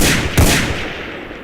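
A single loud, close gunshot booms out in a video game, followed by a decaying rumble and reverb over steady background noise.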